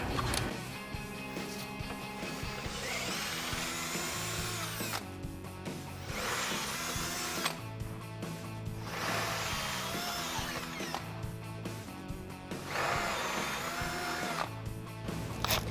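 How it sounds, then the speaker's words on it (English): A power drill with a 3/16-inch bit whines and grinds through metal on a Jeep Wrangler while fitting side armor, several long bursts, pitch shifting under load, with brief pauses between passes. "continue with my 3/16 inch drill bit. Work our way up to 1/4 inch."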